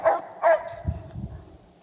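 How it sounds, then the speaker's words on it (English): A dog named Trigger barks in a quiet forest setting at Skidway in Montana's Helena National Forest; two sharp barks in quick succession, followed by a couple of softer, lower huffs, fairly close and with no talk. "There's Trigger barking in the background at Carol."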